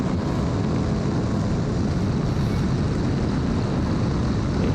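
A 2018 Aprilia Tuono Factory motorcycle is ridden on a bumpy stretch of the Nürburgring, its engine a loud, continuous roar blended with heavy wind rush from on board.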